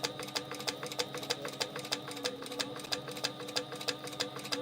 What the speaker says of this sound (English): And I'm using the narrow foot on my Sailrite.